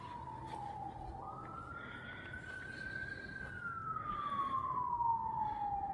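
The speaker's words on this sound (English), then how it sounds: "Now there's the police car coming in." A single wailing siren rises and falls slowly, moderately distant, over low traffic rumble, growing a little louder toward the end.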